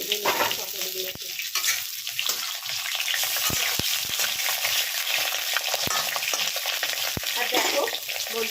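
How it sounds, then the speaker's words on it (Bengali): Pointed gourds frying in hot oil in a pan, a steady bright sizzle throughout with a few sharp clicks of stirring against the pan. "দিয়ে আমি ভেজে নিচ্ছি পটলগুলোকে"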